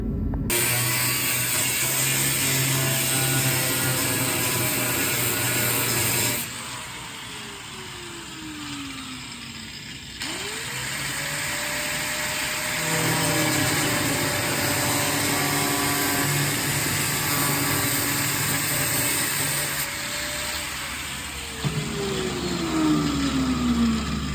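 A power tool cuts a hole in the steel body of a 1948 Chevy five-window truck, whining loudly and steadily and winding down in falling pitch between cuts before spinning up again.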